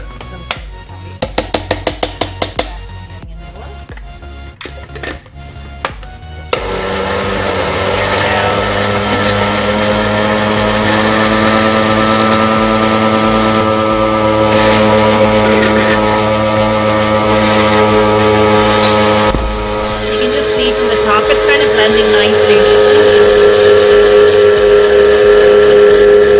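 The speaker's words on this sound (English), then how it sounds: "Sometimes the cottage cheese can kind of tend to, because it's quite thick, it can kind of block up underneath the blender." A blender whirs steadily as it purées thick cottage cheese for homemade protein ice cream, a loud continuous motor drone that kicks in after a few seconds of clicks and handling and runs without talk to the end.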